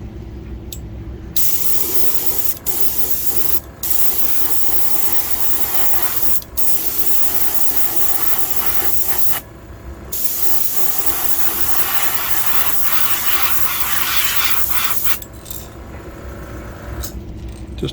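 Color shift paint sprays as a coating over a Megabass blank lure, loud steady airbrush hissing in long bursts with brief pauses between passes; no one talks.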